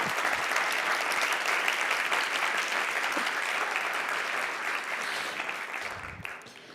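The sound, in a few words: audience applause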